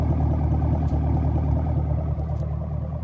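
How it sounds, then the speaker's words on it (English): A steady, deep dual-exhaust rumble from a Camaro SS in sport mode drones continuously at close range, with a low pulsing throb and no talking over it. "the dual exhaust in the bottom with that beautiful rumble in sport mode"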